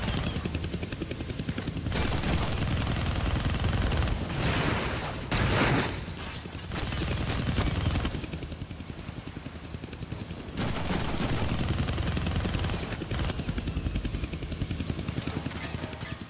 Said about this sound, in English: I can't kill that chopper with my guns